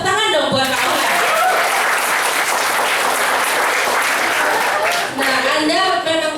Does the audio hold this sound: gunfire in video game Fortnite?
no